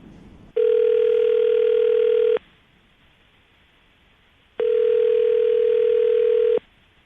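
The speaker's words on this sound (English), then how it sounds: "we're going to call him right now, see if we can get him on the phone" Telephone ringback tone on an outgoing call, two long steady electronic rings separated by a silent gap, clear and alone.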